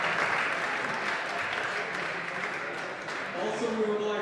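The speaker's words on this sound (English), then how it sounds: "Right now we hear applause for a road setter team." An audience at a youth bouldering cup final applauds the route setter team, a steady, full wash of clapping from a crowd heard at some distance, with a faint voice surfacing near the end.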